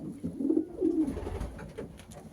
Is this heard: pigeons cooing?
yes